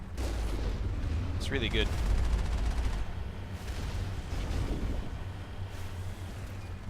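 Heavy cannon fire in the video game Mass Effect 1, a loud continuous booming barrage with rumbling low end, a voice talking briefly over it.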